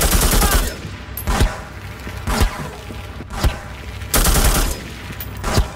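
Loud, sustained bursts of automatic gunfire from the Xbox game Reservoir Dogs, with rapid rattling volleys broken by single heavy shots over several seconds, close and dominant.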